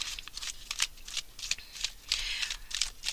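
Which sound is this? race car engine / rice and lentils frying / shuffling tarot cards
shuffling tarot cards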